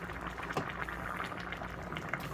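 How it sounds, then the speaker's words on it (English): A pot keeps boiling on a switched-off electric stove, a quiet steady bubbling and popping with a few sharper burbles, heard near and alone. "It's just going to boil like crazy even though it's off."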